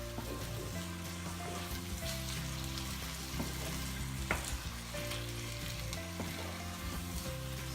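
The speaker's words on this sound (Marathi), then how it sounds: "आपण आता ते टोमॅटो चांगले शिजवून घेणार आहोत. ते आपण आता ह्याच्यामध्ये टाकूया. छान मिक्स करून घ्या ते." Tomatoes for baingan bharta fry in a pan with a steady, close sizzle that fills the whole stretch, broken by occasional soft stirring scrapes and clicks.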